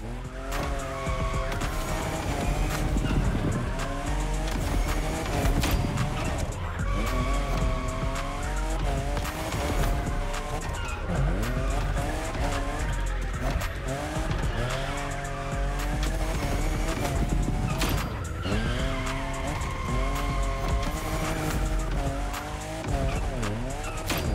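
Toyota Supra, fifth generation, drifting in The Crew Motorfest, tires squealing and skidding over a revving engine, loud and sustained with wavering pitch for the whole stretch, no talk.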